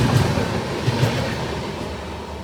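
The Varanasi train rushes past at high speed, skipping a station, with a continuous rumbling roar and rhythmic wheel clatter, loud and close throughout.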